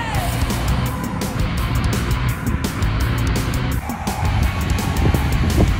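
A 1999 KTM 50 two-stroke dirt bike races a Honda CRF50, with buzzy small engines droning continuously at a distance under wind-like noise, rising and falling as they ride.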